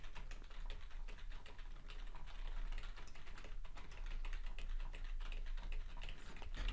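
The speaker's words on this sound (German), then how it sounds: "tippe nebenher ganz fleißig auf meiner Microsoft-Tastatur herum" Steady, busy typing on a Microsoft computer keyboard, a fast, continuous patter of key clicks close by, with no voice over it.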